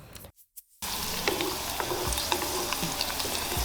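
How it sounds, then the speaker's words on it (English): Raisins fry in hot ghee with a bright, steady sizzle and scattered little pops and spatula scrapes, close and moderately loud, starting after a brief quiet gap at the start. "15 to 20 raisins, and then you have to fry it"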